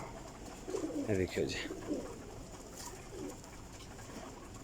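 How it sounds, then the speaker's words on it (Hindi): Pigeons kept by a breeder, males and females, coo softly close by in a short burst near the start, under a man's speech and background chatter. "माशाल्लाह कबूतर बहुत अच्छे ने"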